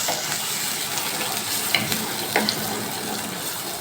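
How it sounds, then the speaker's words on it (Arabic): Rice sautéing in ghee in a pot, a steady close sizzle and hiss with a couple of faint clinks of stirring, no voices. "احنا عملنا شويه الرز على عين السمنه اهو يا حبايبي"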